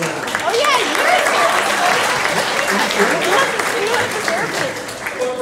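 A comedy-show audience claps steadily and enthusiastically for several seconds, a dense continuous wash of applause with no pauses.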